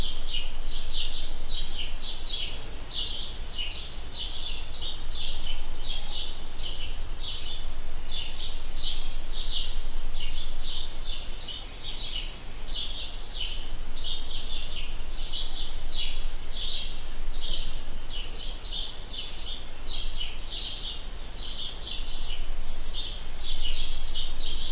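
Birds sing continuously on a morning outdoors, a steady stream of bright repeated chirps and trills at moderate distance over a quiet background.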